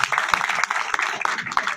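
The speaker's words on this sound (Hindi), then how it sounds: "तालियां हो जाए एक बार बजरंग जी के लिए" Audience clapping for Bajrang ji at a celebration gathering in Jaipur, a short burst of scattered, uneven hand claps from a nearby crowd.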